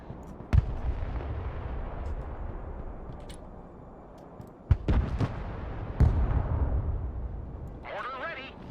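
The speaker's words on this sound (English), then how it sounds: "Mortar ready, sir. Fire mission received." Mortar rounds fired in the video game Broken Arrow, heard as a few sharp, distinct thumps spaced seconds apart over a low battlefield rumble, with a brief voice near the end.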